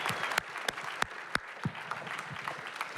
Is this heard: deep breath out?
no